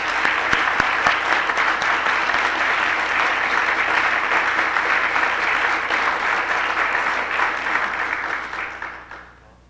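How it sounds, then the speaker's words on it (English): Sustained applause from a large crowd, steady and loud for several seconds before tapering off at the end. "Let's give him a round of applause."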